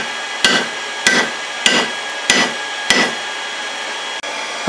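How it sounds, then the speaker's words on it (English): Five loud, evenly spaced hammer blows drive a drift through hot steel while forging a rounding hammer, each with a sharp strike and short metallic ring, then quiet. "as I go to start drifting the hole, the drift should push it out the rest of the way"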